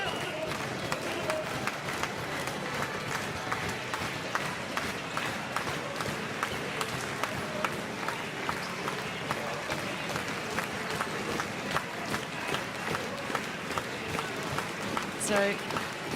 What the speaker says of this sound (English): the home crowd getting into this last few minutes here